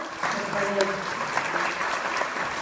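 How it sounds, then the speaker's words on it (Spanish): An audience at a university panel on internationalization applauds the speakers, a dense, loud round of clapping with a voice talking over it. "Queremos agradecer a nuestros ponentes con un fuerte aplauso, por favor,"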